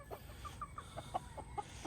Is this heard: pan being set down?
no